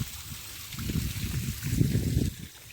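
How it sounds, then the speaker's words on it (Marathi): Well water flows into a small farm pool used for watering livestock, a steady low gurgling trickle that swells and eases over a few seconds, close by and without speech. "हे बघा पाणी चालू आहे"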